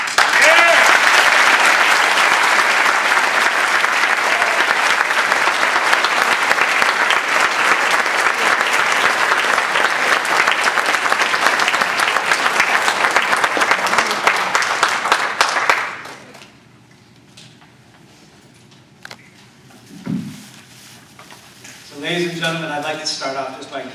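Loud, sustained applause from a conference audience at a Toastmasters district speech contest fills the first fifteen seconds, then cuts off abruptly, leaving quiet room tone and brief bits of talk.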